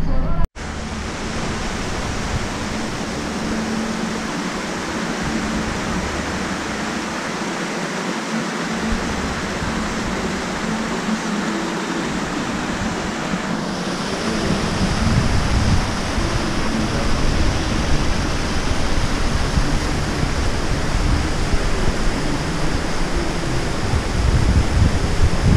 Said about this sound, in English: which is the waterfall right over there.